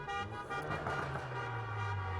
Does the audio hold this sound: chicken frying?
no